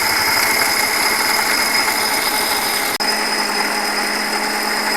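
A kitchen mixer grinder whirs loudly and steadily, blending mustard, yogurt, fennel and cashew into a paste, with a brief cut at midpoint before the motor drones on.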